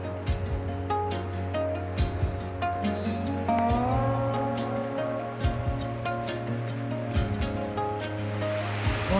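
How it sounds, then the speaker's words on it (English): Steady, continuous rush of a waterfall on a rainy alpine backpacking trail, a broad, even roar that holds throughout at moderate volume, with a few faint clicks and no talking. "Waterfall."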